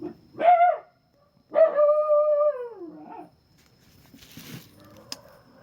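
A dog gives two drawn-out, wavering howls close by, followed by quieter rustling and faint background noise.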